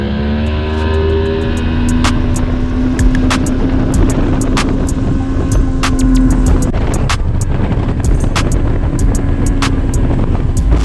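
An old two-stroke outboard motor runs steadily on a boat on Lake Ouachita, a loud, constant droning engine tone with a rough, buzzy texture that barely varies over the whole stretch.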